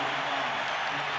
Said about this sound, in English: the buzzer sounds, and the crowd likes what they've seen so far.